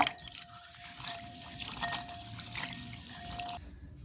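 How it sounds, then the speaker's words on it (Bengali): Fresh green peas being rinsed in water for winter kachori, a steady running and splashing wash with light drips, close and alone for about three and a half seconds before stopping abruptly. "আমি ভালোভাবে মটরশুঁটিগুলোকে জল দিয়ে ভালোভাবে ধুয়ে নেব"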